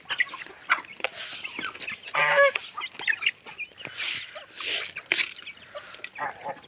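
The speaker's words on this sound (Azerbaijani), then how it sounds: "O toyuqları çəkdim." Chickens near a restaurant cluck in short, irregular bursts, fairly close, with a louder squawk in the middle and some faint background noise.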